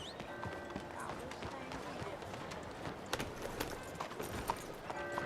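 Horse hooves clip-clop in Red Dead Redemption 2 as the rider takes the horse out through a large town, steady footfalls under a continuous ambient bed with occasional sharper knocks.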